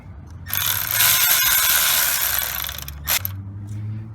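A cordless power tool whirs in one sustained burst lasting a couple of seconds as it snugs up a starter motor bolt on a Malibu 2.4 engine, followed by a brief second pulse, close and loud.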